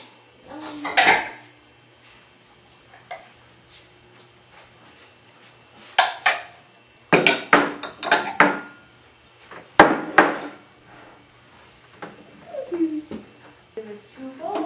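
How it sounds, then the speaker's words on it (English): Dishes, bowls and plates clink and clatter on a dinner table in scattered, separate bursts with quiet gaps between them, some sharp and close, while a voice speaks softly now and then. "Let's set the table for dinner."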